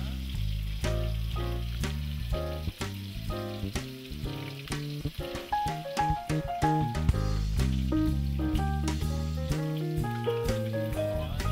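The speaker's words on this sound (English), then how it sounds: "While the meatballs finish browning off" Meatballs sizzle and fry steadily while browning in a pan, a continuous crackle running beneath prominent background music throughout.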